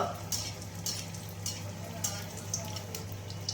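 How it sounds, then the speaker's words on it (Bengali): Battered eggplant slices (beguni) frying in oil, a steady low crackle with bursts of brighter spattering every half second or so, close and moderately loud. "এখানে বেগুন ভাজছি"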